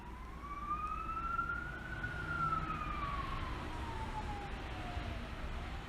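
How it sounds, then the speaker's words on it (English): A distant emergency siren wails, rising and falling slowly over a steady background rumble. "there's a siren in the background"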